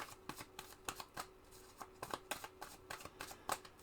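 Tarot cards are handled and cut after shuffling: a string of quick, crisp papery flicks and taps close by, irregular and fairly quiet, with no talking.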